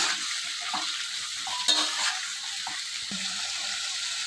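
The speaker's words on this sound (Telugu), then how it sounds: "ఇవి ఆయిల్లో కొంచెం ఫ్రై చేసుకుందాము ఆయిల్ మంచిగా కాగిందండి ఇప్పుడు ఇవన్నీ వేసేసుకుందాము" Chopped capsicum hisses in hot oil, a dense crackling sizzle with occasional stirring scrapes and a light knock of utensils, heard close with no voices.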